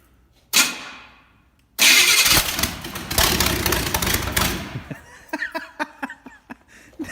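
A truck engine with no exhaust manifolds cranks with a short burst, pauses, then fires up very loud and raw. It settles into an uneven, popping idle with sharp individual exhaust pulses.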